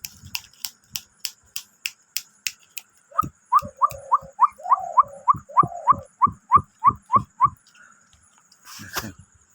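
A young watercock (dahuk) gives a rapid series of short, sharp repeated calls close by, preceded by a run of soft ticking clicks, with no voices.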